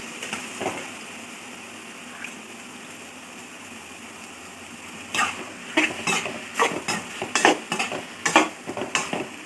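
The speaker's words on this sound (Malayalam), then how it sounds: "എന്നിട്ട് ഇങ്ങനെ ഒന്ന് ഇളക്കണം നമുക്കെല്ലാം നന്നായിട്ടൊന്ന് ഇളക്കുക" Drained cooked macaroni being stirred in a hot pan: a quiet low sizzle at first, then a burst of repeated close scraping and stirring strokes in an uneven rhythm, with no voices.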